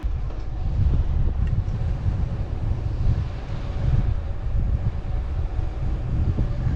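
Continuous headwind buffeting against the microphone while cycling, a low roaring rush that rises and falls steadily, on the Mabini loop.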